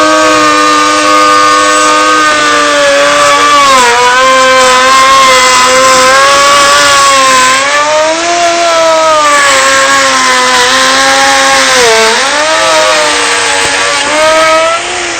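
A wood router cuts through timber with a loud, continuous high-pitched whine that dips and swells in pitch as the bit loads and frees up, steady for the full duration with no talk.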